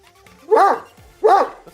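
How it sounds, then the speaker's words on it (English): A dog barks twice at close range, two loud, sharp, slightly whiny barks about three quarters of a second apart, with quiet room noise between them. "Don't bark at me. Stop barking."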